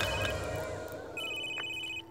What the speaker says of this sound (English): Oh, phone's ringing